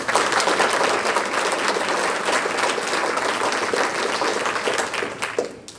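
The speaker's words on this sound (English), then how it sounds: "Let's give them a round of applause." Loud, dense applause from a civic band concert audience fills nearly six seconds with many hands clapping at once, then thins out and fades near the end.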